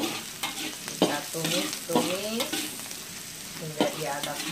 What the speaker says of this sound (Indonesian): tumis-tumis hingga dia agak harum ya.